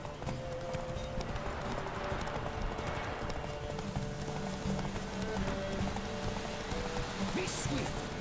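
Horse hooves clip-clop at a steady galloping rhythm in The Witcher 3, close and continuous under a constant layer of game ambience resembling rain.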